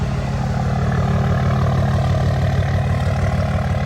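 A vehicle engine idles steadily and loudly right after a fresh Revmax transmission install, a continuous low rumble with no breaks and no voices.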